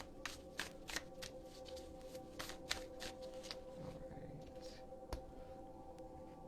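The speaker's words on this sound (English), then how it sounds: "I'm about to pull some angel cards again." Angel cards are shuffled in a quiet room, giving soft, rapid papery riffles and flicks in irregular bursts, faint and close.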